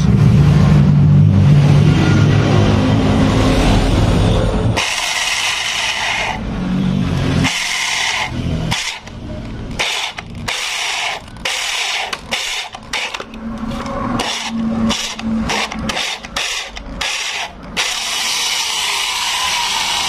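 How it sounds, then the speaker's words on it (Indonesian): A power drill whirs and grinds in stuttering bursts into a metal oil drain bolt, starting and stopping repeatedly, loud and close, after a stretch of steady machine noise. "ini kita bor"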